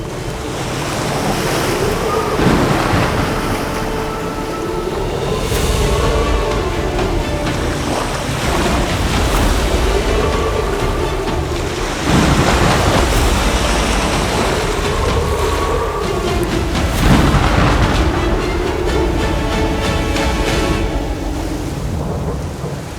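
A cyclone on the coast near Dhanushkodi brings heavy surf crashing in a loud, continuous roar, with rolling swells of thunder, driving rain and wind and no voices.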